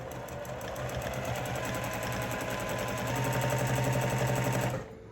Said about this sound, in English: I'll stitch a couple times and then I will start quilting